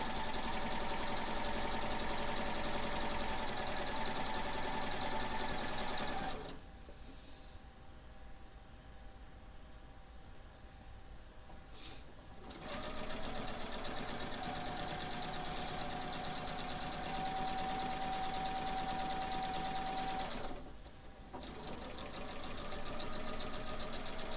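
A sewing machine stitches a quilt piece onto an already sewn triangle, running in steady bursts of close mechanical whirring separated by short pauses.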